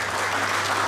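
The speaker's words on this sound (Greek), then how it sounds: "παρακαλώ ένα θερμό χειροκρότημα" Warm applause fills a Greek International Police Association congress hall as award-winning local branches are honoured, a steady dense wash of clapping from a large audience with a low hum beneath.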